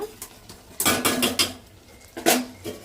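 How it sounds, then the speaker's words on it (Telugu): A spoon stirs coriander powder and salt into curry in a metal pot, giving several clanking scrapes and knocks in uneven bursts, close and fairly loud. "ధనియాల పొడి వేసి కలుపుకోవాలండి"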